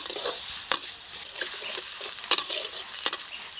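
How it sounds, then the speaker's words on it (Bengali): Chopped onion frying in oil, a continuous close sizzle with stirring and three sharp metallic clinks of a spoon against the pan spread through it. "পেঁয়াজটাকে এখন ভেজে নেব"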